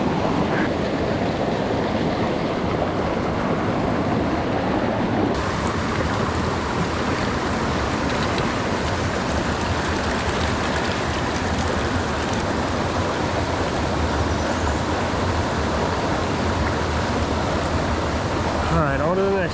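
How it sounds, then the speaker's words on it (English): Loud, constant rushing water from a waterfall on the Rapidan River roars steadily throughout, a dense unbroken torrent close by. "Look at this waterfall, guys."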